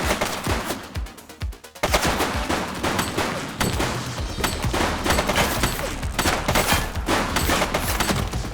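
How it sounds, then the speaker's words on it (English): Heavy automatic gunfire from a police shooter game set in a city precinct, loud and continuous bursts of rapid shots filling the scene, with a brief lull near the start before the firing resumes densely. "Shots fired!"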